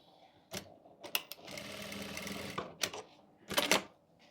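A domestic sewing machine stitches folded fabric with elastic for a wide-leg palazzo pant. Short bursts of rapid mechanical clatter come between pauses, with one longer steady run in the middle, close but fairly quiet.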